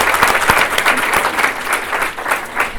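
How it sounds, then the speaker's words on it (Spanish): Full, steady applause from an audience at a regional conference session on text correction, close and continuous for a few seconds. "Un aplauso para"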